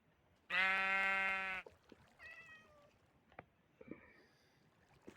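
A long, loud bleat from a sheep in a video game, steady and harmonic, is followed by softer animal calls and clicks, with no talking.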